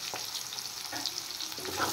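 Onions fry lightly in a pan with a soft, steady sizzle and a few stirring scrapes up close, brief and without talk.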